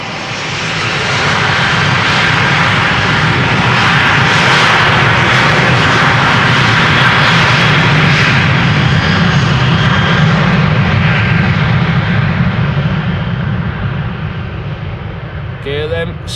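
A KLM airliner's jet engines roar loudly and steadily at Amsterdam Schiphol, a sustained powerful rumble that holds for many seconds before easing slightly at the end.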